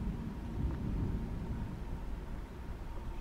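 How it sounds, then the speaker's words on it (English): Thunderstorm ambience in the horror video game Echoes of the Dark: a low, continuous rumbling wash of rain and distant thunder, fairly quiet, with no one talking. "It's just a thunderstorm."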